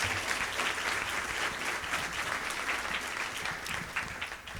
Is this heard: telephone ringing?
no